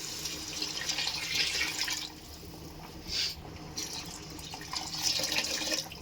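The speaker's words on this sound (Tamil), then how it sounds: "இப்போ 2 கிண்ணம் தண்ணி ஊற்றிக்கலாம்." Water runs and splashes steadily into a cooking pot for several seconds, briefly easing midway, then pouring strongly again, close by with no talking.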